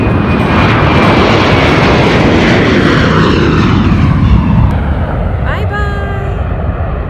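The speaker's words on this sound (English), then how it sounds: "It's so amazingly powerful with the engine roaring and everything." A large airplane roars loudly with engine power, a broad sustained rumble that fills the whole stretch and slowly eases toward the end; a faint whine rises near the finish.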